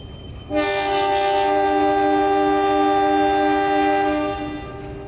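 A loud, sustained passenger train horn blares a departure signal for about four seconds after a brief quiet moment at a mountain station in Indonesia at night, then cuts off, with faint background noise.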